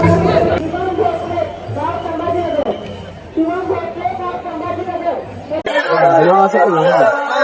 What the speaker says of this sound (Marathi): भाई खूप गर्दी आहे भाई, खूप भारी आहे.